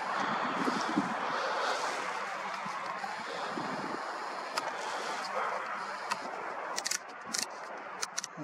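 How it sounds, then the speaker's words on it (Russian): Wind buffets an outdoor microphone in a steady, broad rush during an evening session photographing the moon, with a few faint clicks near the end. "Ладно, слишком ветрено."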